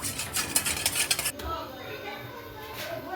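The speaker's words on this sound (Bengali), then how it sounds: "এটা আপনারা ঠিকমতো নেড়ে চেড়ে নেবেন" A spoon clinks and scrapes quickly against a bowl while yeast is stirred with sugar and salt for pizza dough, the rapid rattling stopping abruptly before a quieter stretch as a voice talks.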